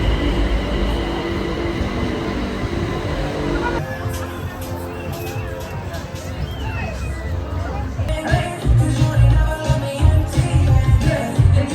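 A train running between Bangkok and Chiang Mai rumbles and clatters steadily, loud and close, with rail noise shifting partway through and a busy crowd murmuring around it.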